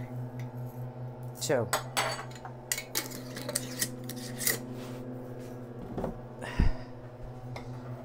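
Wild rice scooped with a measuring cup into a baking dish for baked mixed grains, giving a few short gritty scrapes and rattles over a steady kitchen hum, with a brief spoken word.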